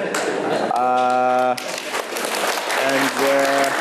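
Audience clapping at a gubernatorial campaign event in Mandera, a dense burst of applause from a crowd close by, broken by a sustained tonal tone and surrounding talk.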